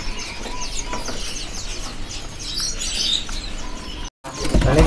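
Caged birds at a kiosk in the Pramuka bird market give off a dense, continuous chorus of chirps and tweets, with cooing and wing flutters mixed in. The sound cuts out briefly near the end, and no one talks.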